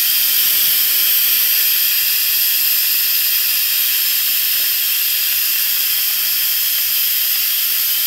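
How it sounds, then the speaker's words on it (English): Steady, loud hiss of steam venting from an Instant Pot Duo Nova 3-quart electric pressure cooker during pressure release, continuous and close for the whole stretch with no talk. "The steam is releasing."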